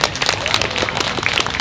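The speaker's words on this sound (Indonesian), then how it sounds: "Tepuk tangan dulu." Audience clapping at a 15th anniversary company speech in Indonesia, a short burst of dense applause with voices mixed in.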